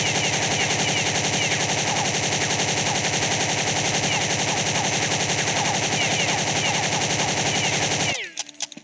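An Electron-7 toy machine gun from the 2026 electron series fires on full auto in a loud, continuous rattling burst that runs for about eight seconds, then cuts off abruptly.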